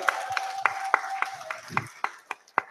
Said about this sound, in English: how about a big, warm round of applause for Eric Rankin